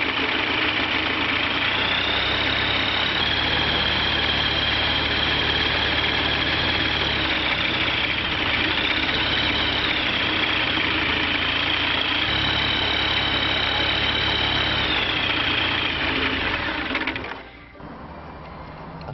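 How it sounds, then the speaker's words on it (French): A Rotax 912 aircraft engine runs steadily during carburettor synchronisation, a close, loud, even drone with slight shifts in pitch, cutting out abruptly near the end. "on lance le moteur pour une première mesure d'équilibre des pressions"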